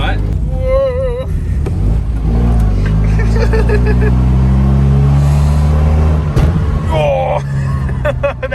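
Fiat Niki Maluch with bad engine mounts: a loud, continuous engine drone and rattling racket from inside the car, pitch rising and falling steadily, with short bursts of voices over it.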